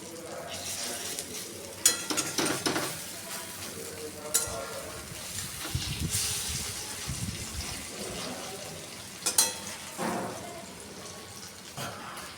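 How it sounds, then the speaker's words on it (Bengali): Banana flower and lentil fritters sizzle steadily in a pan of hot oil, while intermittent utensil clinks and scraping bursts break through as the batch is handled. "আমি অল্প অল্প করে বড়াগুলো ভেজে নিচ্ছি।"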